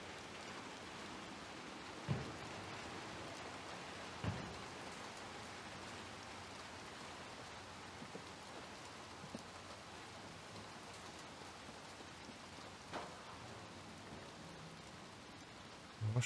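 Steady rain falls throughout a scene in the video game Little Nightmares 2, a continuous even hiss of drops with a few faint thuds and knocks scattered through it, and no one speaking.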